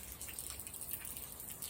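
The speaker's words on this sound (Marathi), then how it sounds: "नुसता पाऊस चालू आहे" Water drips steadily from nonstop rain by a Ganesh temple in Baramati, soft scattered ticks over a faint wash of background noise.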